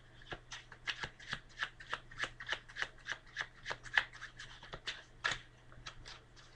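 A deck of playing cards is shuffled by hand for a card trick, giving a quick, regular run of crisp riffling flutters, about two per second, close and fairly quiet, with no voice.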